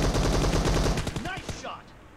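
Rapid automatic gunfire in the battle royale game PUBG, a burst of quick loud shots in even rhythm followed by a few spaced shots and echoing tails as it fades.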